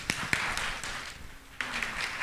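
An audience at a community talk claps together, a steady, moderate patter of applause lasting a couple of seconds, with a few sharper individual claps standing out.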